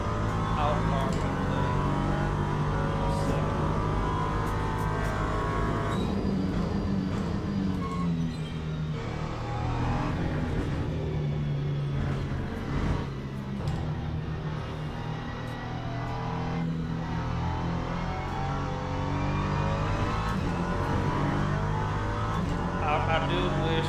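An LMP3 prototype race car in the Le Mans Ultimate racing game drones steadily throughout, its engine revving and shifting through gears with a continuous loud roar and occasional faint tire noise, with no talking.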